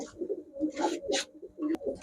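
Giribaz high-flyer pigeons coo repeatedly in a low, throaty rhythm, several rolling coos close by, with brief flutters or scuffs between them.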